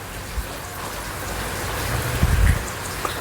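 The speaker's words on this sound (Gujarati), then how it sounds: "અને વરસાદે કરી છે જમાવટ." Steady rain falls in a dense, even hiss, with a few low dull thumps near the end and no talking.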